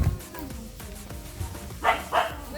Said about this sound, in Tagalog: Ito may aso.